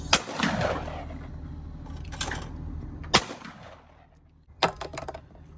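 Shotgun blasts from an English W.W. Greener hammer gun at a clay shoot, three sharp reports spaced a second or more apart, each with a ringing outdoor tail, the first loudest and nearby.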